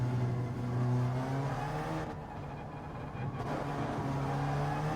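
A race car in Gran Turismo 7 on the Eiger Nordwand circuit, its engine droning steadily and rising in pitch as it accelerates out of a corner, with a brief dip before revving up again, loud and close.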